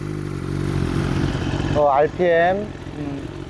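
A BMW S1000RR motorcycle idles with a steady, slightly uneven engine rumble, said to carry a clutch basket rattle, while someone speaks briefly over it near the middle.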